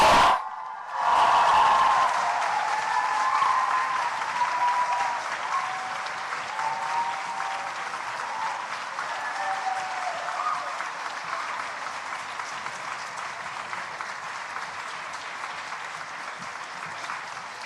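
After a final debate speech at a university grand final, a large audience breaks into loud, sustained applause that holds steady for many seconds and slowly thins out, with no voices heard above it.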